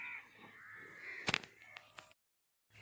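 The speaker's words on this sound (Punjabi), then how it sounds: "ਇੱਥੇ ਕਰਕੇ ਇੱਕ ਕਾਂ ਬਹਿ ਰਿਹਾ ਤੇ ਉਹਨਾਂ ਸਿਰ ਖਾਈ ਆਉਂਦਾ ਰੌਲਾ ਪਾ ਪਾ ਕੇ" A crow perched nearby gives a quick cluster of harsh, loud caws outdoors on a cloudy, breezy day after heavy rain, with a couple of fainter calls following against quiet background air.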